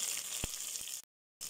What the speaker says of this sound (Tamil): நல்லா வதக்கி நல்லா ப்ரௌன் கலராக வந்து நல்லா வாசனெலாம் வரணும்